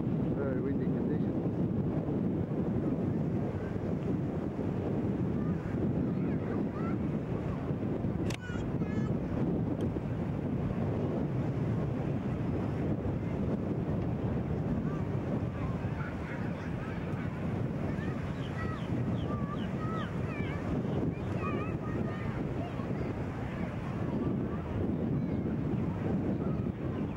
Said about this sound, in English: Very windy conditions.